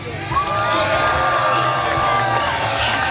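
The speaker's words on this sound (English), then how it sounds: "Let's get a round of applause for Cal." A crowd cheers for a young guitarist after a solo attempt, with shouts and whoops over a steady roar and some clapping, fairly close and loud.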